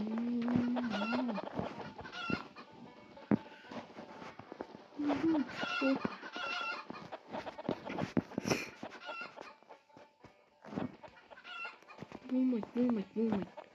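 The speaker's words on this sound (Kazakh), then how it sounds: "Тауықтар" Chickens clucking in the Stickman Party video game: bursts of cartoonish clucks and squawks come in several groups, loud and close, mixed with game effects and pauses.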